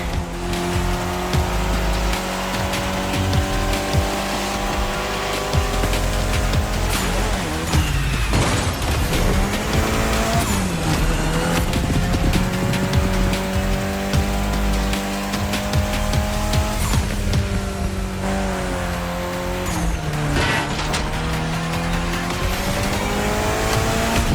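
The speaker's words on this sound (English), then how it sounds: "especially your new ride, Toji's Mitsubishi Lancer Evo X" Mitsubishi Lancer Evo X racing in The Crew Motorfest video game, a loud continuous engine howl rising and falling through gear shifts, with tire squeals and skids throughout and no talking.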